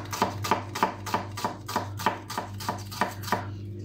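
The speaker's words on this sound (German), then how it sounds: "als erstes schneiden wir mal die Zwiebel" A knife chops an onion finely on a cutting board in a steady, even rhythm of about a dozen crisp strokes, close up over a low background hum.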